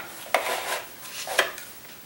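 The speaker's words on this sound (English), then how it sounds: "let's scrape out a little bit on the branch here" A tool scraping wet watercolor paint out along a painted tree branch on paper, two short distinct scratchy strokes about a second apart over quiet background, close and fairly soft.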